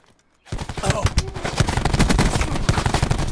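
Gunfire in a shooter video game, a dense burst of rapid automatic shots that starts abruptly after a near-silent moment, loud and close, with voices underneath.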